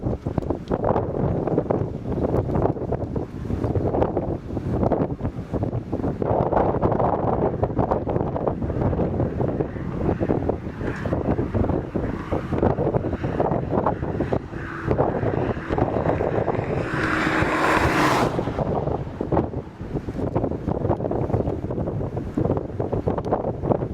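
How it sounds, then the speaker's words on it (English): A tornado's continuous roaring rush during a storm chase near Bowdle, South Dakota, like a waterfall, steady and loud with heavy wind buffeting the microphone throughout. "you'll hear a waterfall sound at that rush too."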